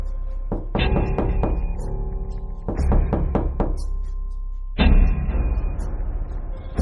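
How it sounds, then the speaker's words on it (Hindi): Knocking on a house door in an animated cartoon, heard as three clusters of quick, hollow thuds, each burst of four or five knocks followed by a short pause. "इसके बाद बुल्ली पीटर के घर का दरवाजा खटखटाता है।"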